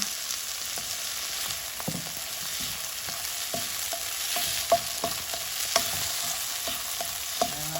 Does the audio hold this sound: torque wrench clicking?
no